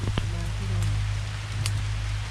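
Rain falls steadily during an outdoor hunt for large bolete mushrooms, a close, even hiss with a few faint droplet taps over a constant low hum.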